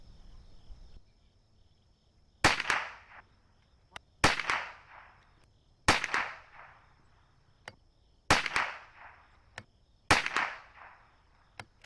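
Five sharp cracks from a CZ457 rifle shooting CCI Blazer 38 grain .22LR rounds, each followed by a brief ringing decay and spaced evenly about two seconds apart, loud and close, with faint clicks of the bolt cycling between shots.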